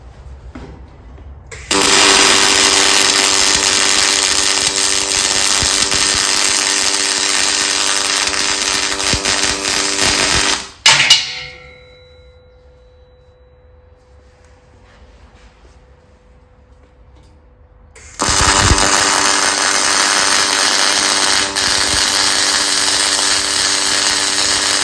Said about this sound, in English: I'm gonna go ahead and throw these welds on here